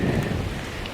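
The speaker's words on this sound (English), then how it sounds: "It rained pretty hard, and now it's just sprinkling a little bit" Light rain sprinkles steadily at a campsite in Mexico, a dense, continuous patter that stays fairly loud and even, with no voices.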